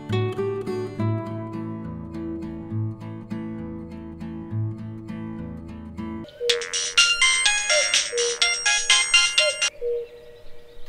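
A phone ringtone plays alone: a low repeating melodic phrase, then a brighter, higher chiming melody taking over partway through, clear and steady.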